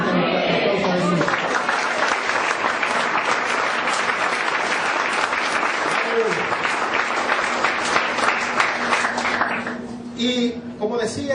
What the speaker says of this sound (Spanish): Vamos a tener un aplauso a Jesús